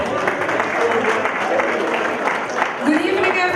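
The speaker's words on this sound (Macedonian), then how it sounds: "Да ги поздравиме со еден аплауз." A carnival masked-ball audience applauds a visiting group from Aruba, a dense steady clapping roar from a crowd with a voice speaking over it.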